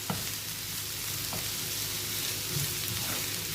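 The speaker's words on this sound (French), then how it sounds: "on va venir ajouter les petits légumes. On va les laisser cuire" Small diced vegetables for a vegetable lasagna frying in a pan, a steady, even sizzle heard alone and close with faint occasional stirring.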